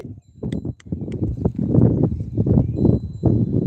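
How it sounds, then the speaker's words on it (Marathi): A bull runs past outdoors in pleasant weather, and its hooves beat out a loud, irregular clip-clop of close, sharp thuds that continue steadily throughout. "एक बैल भाग रहा है"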